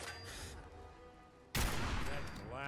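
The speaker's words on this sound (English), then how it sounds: "Dude, that's a shotgun." A sudden loud shotgun blast in the Fallout 4 video game erupts partway through, following a quieter stretch of low background game sound, and the heavy roar lingers until the end.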